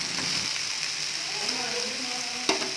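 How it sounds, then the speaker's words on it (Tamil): Fish frying in oil over a medium flame, a dense, steady sizzle close up with a brief clink near the end. "மீடியம் ஃப்ளேம்லேயே வச்சுட்டு ஃப்ரை பண்ணுங்கள்"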